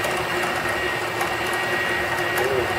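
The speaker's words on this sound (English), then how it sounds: "Start the machine up." A tapping machine runs steadily in a workshop while threading T-nuts, a continuous mid-level mechanical whir and hum with faint metallic ticks, close and even throughout.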